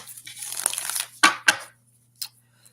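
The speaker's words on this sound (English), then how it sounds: "One more shuffle here. One more shuffle." Tarot cards shuffled by hand, a broad papery riffle and crinkle over the first second, then two sharp snapping flicks and a fainter later tap, close and fairly quiet.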